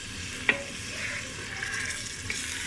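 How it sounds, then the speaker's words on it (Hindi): Half a kilo of hand-minced beef keema fries in a pan with a steady, moderate sizzle and stirring, broken by a sharp clink near the start and a light tap near the end. "इसको हम थोड़ी देर अब फ्राई करेंगे"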